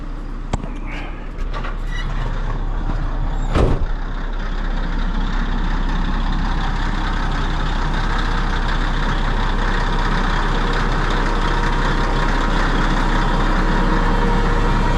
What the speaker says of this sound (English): it's already got air up on the tractor and it's blowing air out